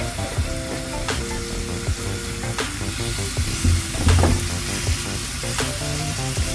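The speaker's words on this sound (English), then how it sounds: "So let's go down with your 3 pieces of salmon." Three pieces of salmon fry in a hot pot for a curry, giving a steady, loud sizzle with brief clinks and stirring scrapes throughout, no voices.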